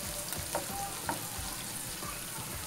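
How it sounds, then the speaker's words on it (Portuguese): A small onion sautés in a pan for a chicken coxinha filling, a steady crackling sizzle with a few light scrapes of stirring, close and continuous. "Ó, aqui uma cebola pequena refogando."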